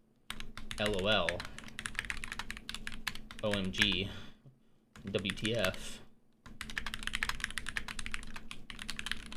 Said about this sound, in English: Don't judge my typing, by the way.